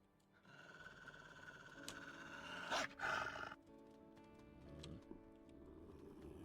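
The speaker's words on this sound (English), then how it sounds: "Yeah, so he's like growling and stuff too." In-game wolf from WolfQuest growling and roaring, a rough sustained snarl rising to louder bursts near the middle, with wild animal roars carrying over a steady game ambience throughout.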